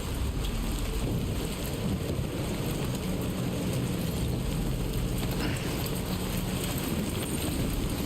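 Steady rain pours down in a dense, even hiss, with low rumbling that may be distant thunder or wind, continuous and moderately loud, with no one talking.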